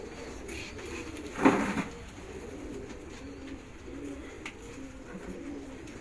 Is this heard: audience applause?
no